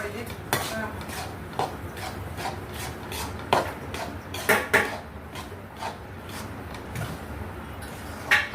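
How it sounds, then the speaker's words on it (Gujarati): Jaggery being stirred quickly in a pan for sukhdi, a metal spoon scraping and clinking against the pan in a steady run of close, sharp knocks and rubs, with a few louder clanks. "ગોળ નાખી અને ફટાફટ હલાવવા પડવાનું આને, નહીં તો કડક થઈ જાય"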